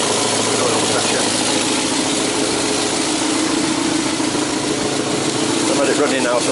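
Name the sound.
Austin 1300 Countryman engine idling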